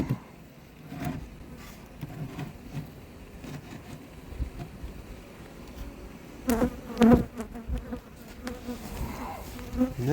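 Honey bees buzz steadily around an opened hive during a spring split, a dense close drone of many insects with a few louder passes near the end.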